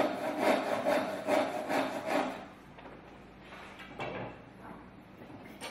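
Hand saw cutting through timber back to a marking line, a rhythmic rasping of steady push and pull strokes for about two seconds, then quieter scraping and handling of the wood.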